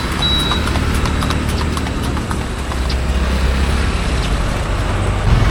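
Hooves of a traditional horse-drawn carriage in Mysore clip-clop steadily and fairly close, over a constant hum of nearby road traffic, with no talking.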